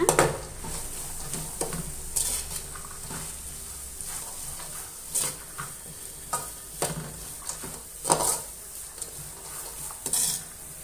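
Chicken fried rice cooks over full heat in a pan, a constant loud sizzle with repeated metallic scrapes and clanks of a spatula stirring at an uneven rhythm.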